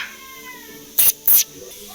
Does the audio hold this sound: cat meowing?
yes